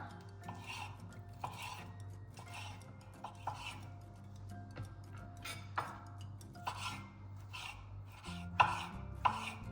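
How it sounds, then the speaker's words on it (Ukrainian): A knife taps and slices boiled pork into small strips on a cutting board in a quiet kitchen, irregular soft strokes with occasional sharper knocks. "я поріжу такими невеличкими смужечками"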